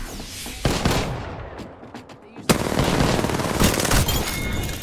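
Video game gunfire: a fast automatic burst, a lull with scattered single shots, then another sustained rattling burst, loud and close.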